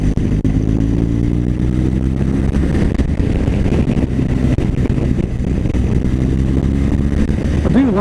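A BMW R1200GS motorcycle on a test ride gives a loud, close, steady engine drone with rising and falling pitch as it speeds up and eases off, mixed with wind noise.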